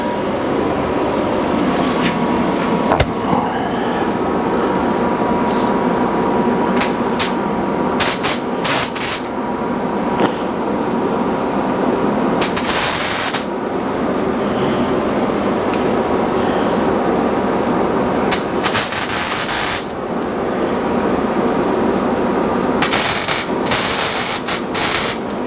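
Steady hissing and crackling of spot welding on a bipod, with bright bursts of grinding noise breaking in now and then; loud, close and continuous, no talking.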